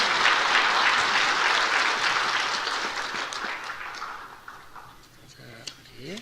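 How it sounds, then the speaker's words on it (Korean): A church congregation applauds loudly and steadily, the clapping thinning and fading over several seconds until only scattered claps remain. "박수로 한번 축하하겠습니다."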